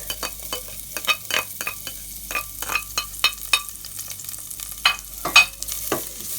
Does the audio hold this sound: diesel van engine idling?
no